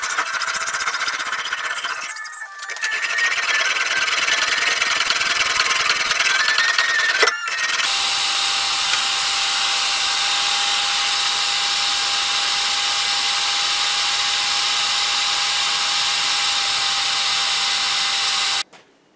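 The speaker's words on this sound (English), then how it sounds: "I've got to tidy up the bevels with a file and get everything flattish" A steel machete's bevels are worked with a file in a steady, continuous high-pitched scraping squeal, close and loud, briefly pausing twice before running on, with a faint tone underneath.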